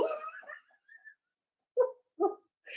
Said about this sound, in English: This is the puppy.